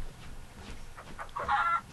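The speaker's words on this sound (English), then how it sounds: "But so far all we have is chickens." Chickens in the video game InfiniteCraft cluck in short repeated bursts, ending with a louder, higher squawk near the close, heard alone without talk.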